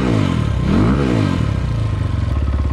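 A 2020 SSR Moto Chinese dirt bike fitted with a Lectron carburetor idles a little high, its single-cylinder thump loud and close, with the pitch swelling and dipping briefly.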